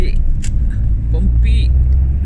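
Car interior on a bumpy road, with a steady loud low rumble and brief jolts and rattles throughout, while a person talks over the drive.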